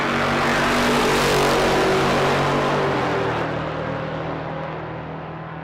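Supercharged small-block G-body and a supercharged LS car drag racing side by side, a loud sustained engine roar that builds, then fades into the distance, with a droning harmonic tone and no talking.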